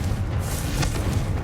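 Confringo blasting spell explosion in Hogwarts Legacy, a deep, muffled boom rumbling steadily through the short stretch with a soft thud near the middle, no talking.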